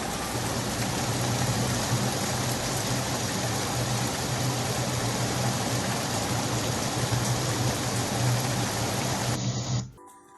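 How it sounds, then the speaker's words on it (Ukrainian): Heavy rain pours down in a dense, steady roar that stays loud and constant, then cuts off abruptly near the end. "це також дощ, але тут ми чуємо з вами зливу"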